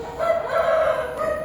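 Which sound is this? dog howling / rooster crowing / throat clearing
rooster crowing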